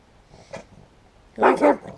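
A dog gives a short burst of two or three close, loud woofs after a faint earlier yip, with no talk over it.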